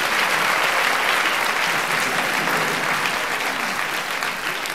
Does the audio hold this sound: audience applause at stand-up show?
yes